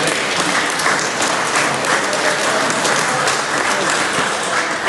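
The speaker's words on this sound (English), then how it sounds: "I'd just suggest that applauding that sort of activity is not wise." Audience applauding an announcement of a 50 basis point cut to the official cash rate, a loud, dense, sustained burst of clapping from a large room of people, steady across the whole stretch.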